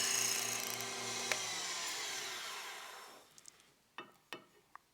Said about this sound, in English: let me clean that up again, go in the right direction with a slicing cut